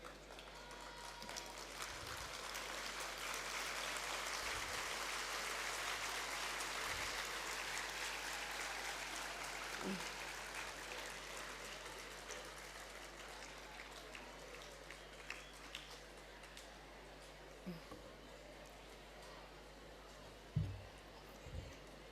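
A standing audience claps in a broad, distant wash of applause that slowly fades, leaving scattered faint noises and a few sharp knocks near the end.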